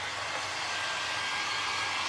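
A heat tool blows steadily and loudly on a painted Christmas snowman craft, a continuous rushing whir of air with no break and no talking.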